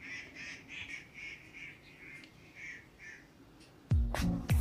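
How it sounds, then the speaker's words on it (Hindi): Several birds call outdoors on a morning in the hills, repeated bright chirps at a moderate distance, then a louder nearby honking, quacking fowl call bursts in near the end. "सुबह बाहर बहुत सारे पक्षी चहचहा रहे होते हैं"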